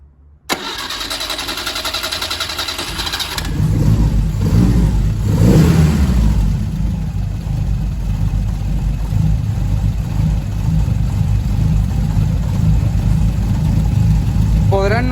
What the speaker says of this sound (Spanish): Voy a hacerles escuchar cómo es que regula actualmente el motor.